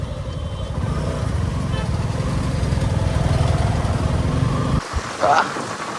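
A motorcycle with a refined engine hums steadily while riding along a village road for about five seconds, then the note drops away abruptly near the end.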